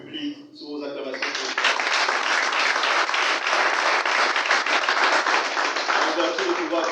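A crowd applauding at an official launch of a Gabonese teachers' network, with a speaker's voice at first, then a loud, sustained burst of clapping that continues to the end.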